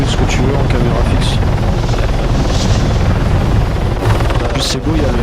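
Helicopter in a video game with a Red Dog tag on its body, loud and close, its rotor chop and engine roar continuous with sharp bursts of what sounds like gunfire over it.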